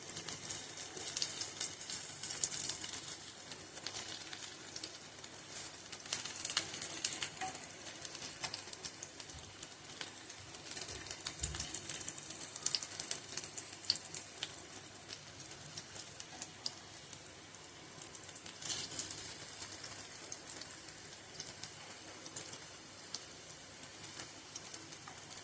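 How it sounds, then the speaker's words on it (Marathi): Colocasia leaf rolls (alu vadi) being sautéed in a pan, giving a steady, faint crackling sizzle with scattered pops throughout and no voices. "तर अळूवडी आपण परतून घेऊया."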